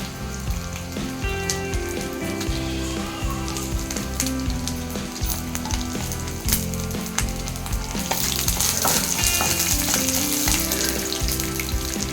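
Broken chillies frying in oil along with garlic for betel garlic rice: a loud, close sizzle with a busy crackle and occasional stirring sounds, swelling brighter and more intense toward the end, with no talking.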